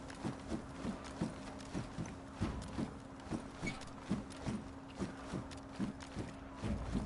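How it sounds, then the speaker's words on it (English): Crouched footsteps creeping along in DayZ, a steady, evenly spaced series of soft thuds, fairly faint and unhurried, repeating about three times a second with no talking. "I know I heard crouching sneak up footstep"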